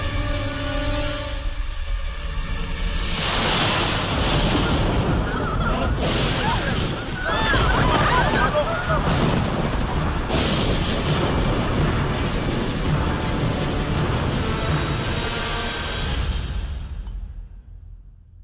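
A roaring storm of wind and churning water in the mythological film Krishna, raised to flood Vrindavan, fills the scene as a loud, continuous broadband rush with surging gusts that fades out at the end.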